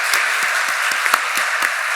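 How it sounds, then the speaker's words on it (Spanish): Audience applause at a university panel talk, dense steady clapping from a crowd, with a few sharper individual claps standing out near the listener. "ofrezcámosle un lindo y maravilloso saludo y aplausos"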